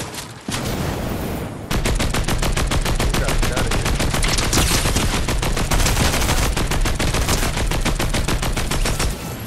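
Rapid, loud automatic gunfire in Fortnite, sustained bursts of closely spaced shots after a brief quieter opening, with no talk.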